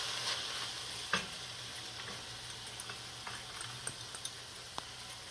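Onions dropped into a pan of browned ground beef from which the grease has been drained sizzle and fry in a steady faint crackle, with a few sharp ticks and pops scattered throughout and no one talking.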